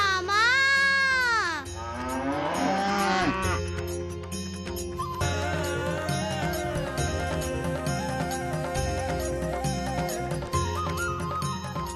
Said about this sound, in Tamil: திடீரென்று பசுக்கள் ஏன் கத்துகின்றன?